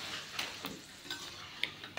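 Homemade maida papad frying in hot oil: a soft, quiet crackle with a few sharper pops spaced through the clip, no voices.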